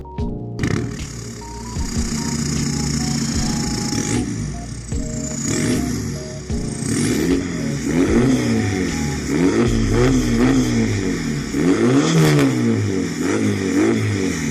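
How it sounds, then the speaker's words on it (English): An old VW TDI diesel car engine revs repeatedly, rising and falling in pitch with a rough, throaty exhaust note, close and loud, with no talking. "I'll throw an exhaust clip of the old TDI into this video"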